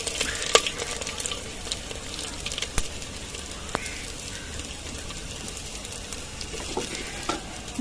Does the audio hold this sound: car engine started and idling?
no